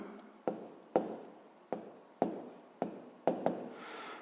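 A pen scratches out a sixth-grade maths exercise by hand, a series of about eight close, crisp strokes and taps on paper in an irregular rhythm, each followed by softer scribbling.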